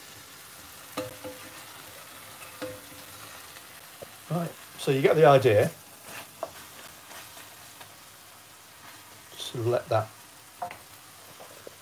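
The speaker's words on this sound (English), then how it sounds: "let that sizzle away" Steady frying sizzle from ginger curry cooking in a pan hisses in the background while a person talks over it in short bursts.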